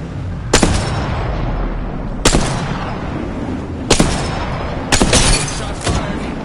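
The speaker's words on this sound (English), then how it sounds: "Shots fired, and they're hitting me." Four loud, sharp gunshots go off at irregular intervals in a video game, each a cracking blast with a brief echoing tail over a steady background rumble.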